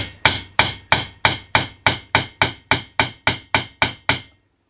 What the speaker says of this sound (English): if I can find my hammer, I'm going to try to get it to go down into this hole here